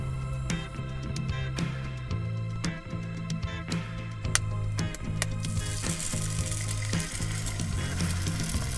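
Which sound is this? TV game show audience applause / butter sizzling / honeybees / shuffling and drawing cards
butter sizzling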